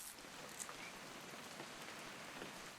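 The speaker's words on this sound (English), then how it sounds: "It's gonna rain the whole weekend, isn't it?" Steady rain in the video game What Remains of Edith Finch, a soft even patter with scattered drop ticks, faint and continuous with no voices.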